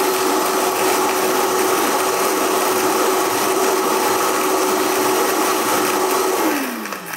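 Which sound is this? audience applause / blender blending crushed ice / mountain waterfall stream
blender blending crushed ice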